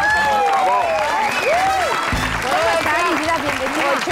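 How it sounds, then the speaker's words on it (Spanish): A studio audience applauds and cheers for an actress being welcomed onto a Spanish-language TV show; the steady clapping runs throughout, mixed with a presenter's talk and music. "¡Un aplauso! ¡Bravo!"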